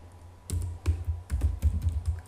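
Typing on a computer keyboard while entering network switch configuration commands, a quick, uneven patter of loud, near key presses and thumps over a low electrical hum, with no speech.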